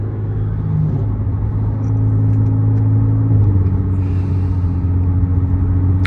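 A loud Audi TT with a VR6 engine and poor wheel alignment drones as it drives, a steady deep rumble with a slight shift in engine pitch partway through, heard from inside the cabin with no talk.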